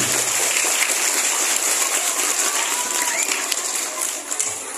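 Applause for Alifa, a steady wash of many hands clapping that continues throughout and tapers slightly near the end, with no talking over it.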